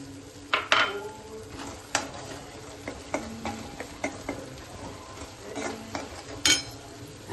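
Peas tipped into fried masala in a pan for matar paneer, then stirred with a spoon, giving clanks and scraping against the pan over a light sizzle, close by with no talk.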